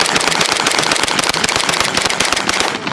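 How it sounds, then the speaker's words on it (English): A .270 bolt-action rifle being fired outdoors, giving loud, sharp cracking reports with a rapid, dense run of impulsive bangs that fill the whole stretch. "First time shooting a 270."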